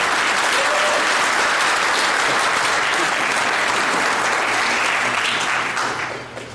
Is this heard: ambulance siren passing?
no